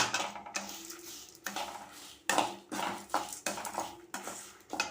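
Curry leaves dry-roast in a pan while being stirred for a spice powder, with repeated scraping sweeps and dry rustling in uneven bursts, close and fairly quiet.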